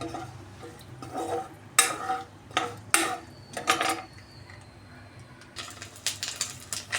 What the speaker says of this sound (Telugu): మినపప్పు, పచ్చిశనగపప్పు కూడా వేసేసుకుందాము. మీడియం ఫ్లేమ్లో బాగా ఫ్రై చేసుకుందాము.